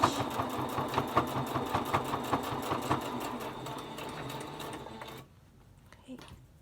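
A sewing machine back stitches a pleated fabric face mask, running close and steadily with a rhythmic mechanical chatter for about five seconds before stopping abruptly, leaving faint handling sounds.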